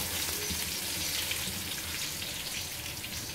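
Onions fry to deep golden brown in a pan for chicken biryani, a dense, even, rain-like sizzle holding close and steady with no speech.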